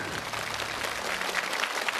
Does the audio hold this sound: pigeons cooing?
no